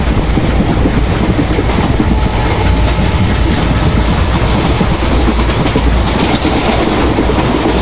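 An Indian Railways locomotive in the MSTS Open Rails train simulator speeds up toward about 110 km/h, a loud, continuous rumble of wheels and rails with steady clickety-clack running throughout.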